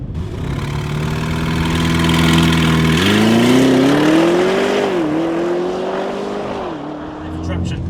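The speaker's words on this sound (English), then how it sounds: "Now to launch this car, you've got to have it in RS2 mode, which is traction off, and literally plant the brake and go." An Audi RS Q8 in RS2 mode with traction off builds boost against the brake, then launches hard, its loud engine note climbing through rising, stepped gear changes before easing off.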